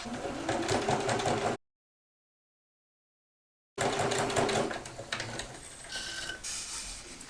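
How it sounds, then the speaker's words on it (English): A sewing machine top-stitches across the edge of a padded laptop pocket, whirring in a close burst, pausing in silence, then running again more faintly. "The next step is just to top stitch across the top edge of that pocket."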